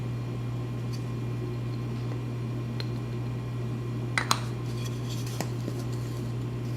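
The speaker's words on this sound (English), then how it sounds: "Mix all your ingredients well." Bread dough ingredients, including sugar, salt and diastatic malt powder, are mixed in a bowl for artisan bread, with a few light clinks and scrapes over a constant low hum.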